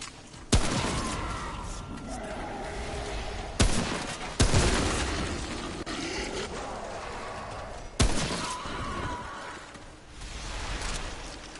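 Gunfire in the video game Remnant: From the Ashes, four heavy, booming shots spaced a few seconds apart, each leaving a long rumbling tail over a dense, noisy battle backdrop.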